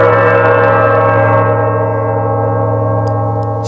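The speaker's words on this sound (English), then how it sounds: "This is a heavy steel gong, rather primitive." A heavy, primitive steel gong rings out after being struck, a loud sustained metallic hum with dense overtones that slowly fades and has a harsh, bell-like edge.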